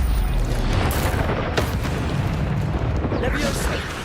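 Stupefy stunning spell cast in the Hogwarts Legacy video game, a dense burst of magical impact noise with a sharp crack near the middle, set amid continuous busy combat sound and voices.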